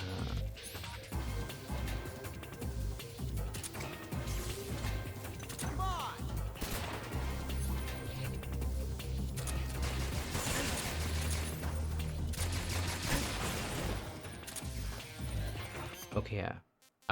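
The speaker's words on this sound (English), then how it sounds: "He's shooting the panel now." Metal Gear Solid 3 gunfire rattles in bursts through dense, continuous game noise and mechanical clatter, loud and steady for most of the stretch before cutting off near the end.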